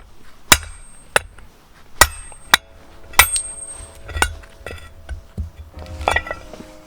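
A hammer strikes a metal drift in a series of sharp, ringing blows, knocking the front wheel hub out of a Citroen C8 steering knuckle, several loud and close with a metallic clink and brief ringing afterward.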